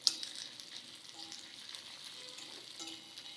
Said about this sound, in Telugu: మిరపకాయలు బాగా వేగనివ్వండి, కొంచెం మంచి రంగు వస్తే బాగుంటుంది